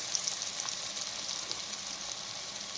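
Onions and garlic sizzling in hot oil for a cauliflower fry, a steady, even frying hiss with faint crackles throughout, heard alone without talk.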